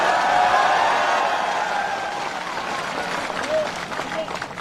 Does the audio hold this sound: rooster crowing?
no